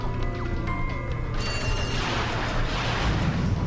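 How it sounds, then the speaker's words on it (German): Weapon fire against enemies in Ratchet and Clank, a dense, loud stream of mechanical blasts and crashes over a steady game soundscape, with a sweeping burst partway through. "Darum knall ich sie gleich erstmal ab."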